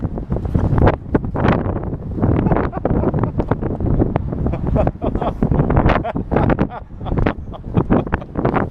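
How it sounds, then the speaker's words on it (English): Strong wind buffets the microphone in loud, continuous rumbling gusts during a snowy hike, with voices and outdoor activity faintly underneath. "it's quite windy"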